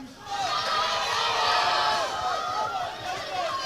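Nottingham crowd cheering and shouting for a powerlifter at a university powerlifting competition, a loud sustained roar of many voices with whoops, steady throughout and easing slightly near the end.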